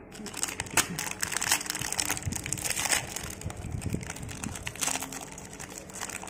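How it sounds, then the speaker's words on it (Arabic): A plastic wrapper bag around a Friday double chocolate ice cream stick crinkles and crumples as it is torn open, a steady close-up rustle with sharper crackles throughout. "هنفتح الكيس وافرجكم عليه من جوه."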